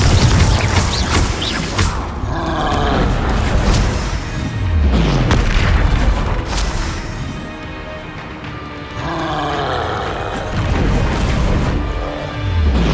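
Magic spell explosions in Hogwarts Legacy boom and crash repeatedly over dense, loud game sound, with several heavy low-end blasts spread across the whole stretch.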